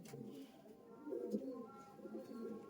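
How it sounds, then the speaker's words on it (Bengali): Large Giribaz pigeons cooing in a loft, low rolling coos repeating softly and close by, with faint background noise. "বড় সাইজের পায়রাগুলো"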